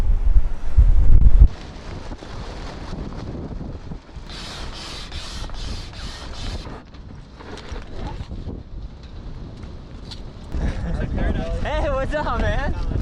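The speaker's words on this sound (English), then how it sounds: "Nice wind today, huh?" Strong wind gusts buffet the microphone at a wing foiling spot, rumbling low and roaring throughout, with people chatting nearby and bursts of rustling flutter over the steady blow.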